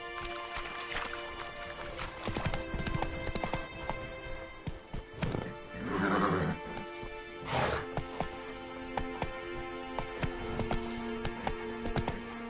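A horse in The Witcher 3 video game trots with steady clip-clop hoofbeats and lets out a whinny midway, with game ambience and clatter around it.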